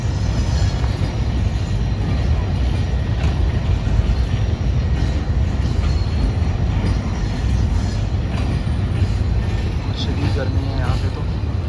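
A Shah Latif 151UP train sits at a hot station with ZDKC coaches, its steady rumble and rail noise loud and continuous throughout, with faint talk and a few brief squeals near the end.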